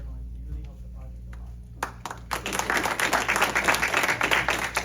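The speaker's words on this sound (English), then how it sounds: "Yes, big applause." An audience at a graduation ceremony breaks into applause, quiet murmuring with a few scattered claps that swell after about two seconds into full, steady clapping.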